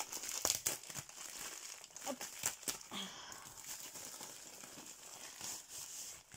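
Plastic packaging around a diamond painting canvas is crinkled and torn open close by, with repeated crackly rustles and sharp tearing bursts throughout, no speech over it.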